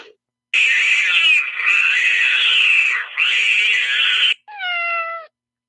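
Cats meowing in long, loud, drawn-out wails, three sustained cries in close succession followed by a shorter, higher meow, up close with silence around them.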